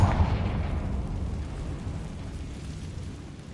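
A Confringo fire spell explodes in Hogwarts Legacy: one booming blast at the start that rumbles and fades slowly over a few seconds, alone with no talking.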